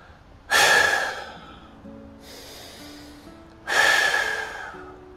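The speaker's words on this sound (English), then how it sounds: "Couple breaths." Two strong breaths during a floor exercise routine of rolling onto the side and pushing up on the elbow, each a loud, breathy rush a few seconds apart, with a softer breath between them.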